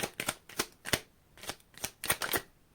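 Tarot cards are shuffled in a series of quick riffling bursts, about eight crisp rustling flicks at an irregular rhythm, close and fairly soft.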